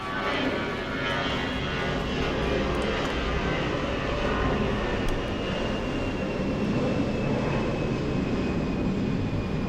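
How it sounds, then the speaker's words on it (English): An airplane passes overhead with a loud, continuous engine roar that fills the whole stretch, steady and droning without a break. "The plane sounds, there's nothing I can do about it."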